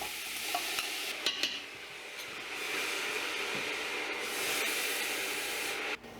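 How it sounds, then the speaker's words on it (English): Ground beef stirred into sautéing vegetables and garlic in a pot for taco soup: a soft, continuous sizzle with scraping spoon strokes and a few light clicks, fairly quiet and with no talking. "stir in all of my ground beef"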